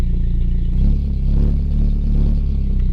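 Car engine running with no exhaust fitted, idling and blipping with a loud, steady low rumble and a slight rise in revs near the middle; the car is moving under its own power in a garage.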